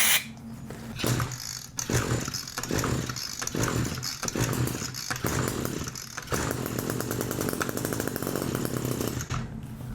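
An Echo SRM-225 string trimmer's small two-stroke engine, running on starting fluid, buzzes loudly and continuously throughout, its revs rising and falling in uneven surges as if blipped by the throttle.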